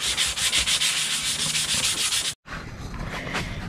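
Primer being sanded on a Knight Rider KITT scale model, a steady close rubbing scrape in quick repeated strokes, broken by one brief pause before the sanding resumes.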